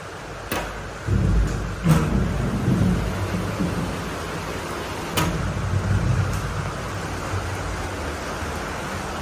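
Hailstones pelt a house roof and the front sit-out in a dense, steady patter, with several sharp louder impacts standing out against the continuous rushing noise of a heavy storm.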